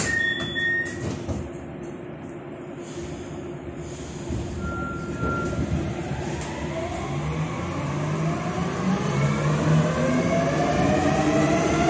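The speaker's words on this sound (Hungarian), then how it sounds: "Szerintem még át tudok menni ezen a metróval irány a Corvin negyed" A Budapest M3 metro train running toward Corvin-negyed, heard from inside the car as a steady rumble and rising whine as it gathers speed, with a few brief clunks and squeaks early on and no talking.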